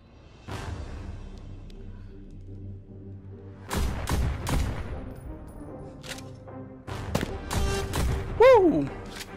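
Rapid gunshots in the VR game Pistol Whip, clustered sharp bangs and thuds over a rhythmic electronic music track, with bursts coming thick in the second half and a voice whooping briefly.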